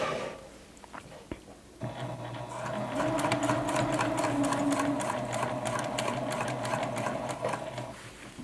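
A home sewing machine stitching the hem of scrubs, without a free arm; a short whir, a pause, then a steady close, loud motor drone with rapid needle clatter running continuously.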